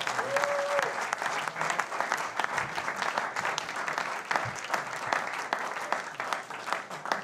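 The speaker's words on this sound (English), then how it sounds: "I got to applaud him" Steady applause from an audience honoring a former AFL most valuable player, dense clapping that holds at an even level without a break.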